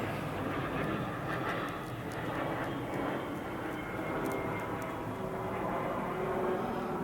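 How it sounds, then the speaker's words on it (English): A commercial passenger plane passes overhead outdoors, a steady broad engine roar lasting throughout at moderate distance, with no voices. "There's just a plane going over."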